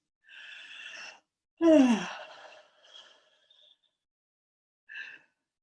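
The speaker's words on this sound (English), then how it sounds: "So, even inviting in the sound of a yawn." A long, breathy yawn with a rising-then-falling voiced groan, followed by a soft trailing exhale and a brief breath near the end.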